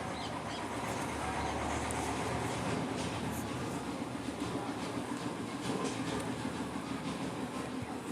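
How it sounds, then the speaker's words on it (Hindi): A train rolling along the rails with a steady loud rumble and rhythmic clickety-clack of the wagons, continuous for several seconds, with faint birdsong in the background and no talk. "ट्रेन."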